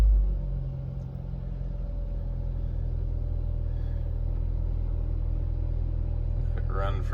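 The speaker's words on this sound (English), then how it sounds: "foot on the brake, start the car" A BMW E84 engine runs steadily at idle after being started, a low continuous rumble holding even throughout with a brief higher whine near the end.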